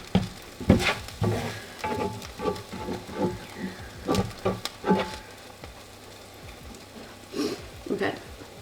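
Eggs fry in a pan with a steady sizzle, broken by frequent scrapes and clacks of a utensil as they are pushed and flipped, close and moderately loud.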